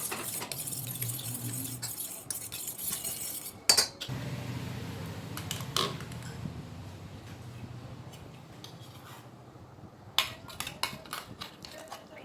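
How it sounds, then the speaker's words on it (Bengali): Eggs beaten with chopped green chilli and ground pepper using a fork in a bowl, giving quick repeated clinks and scrapes of metal on the dish, with brief louder knocks and pauses. "একটু কাঁচা লঙ্কা কুচিয়ে দিয়েছি, একটু গোলমরিচ গুঁড়ো, একটু ভালো করে ফেটিয়ে নেবো ডিমগুলোকে"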